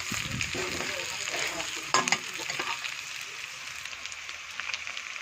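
Meat sizzles steadily in a hot pan, a dense, close frying hiss with a brief stirring clatter partway through.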